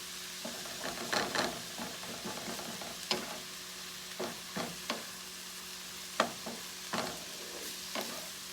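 Onions, peppers and other chopped vegetables sweat in a gumbo pot, with a soft steady sizzle broken by repeated scraping stirs of a spoon against the pot, close and fairly quiet.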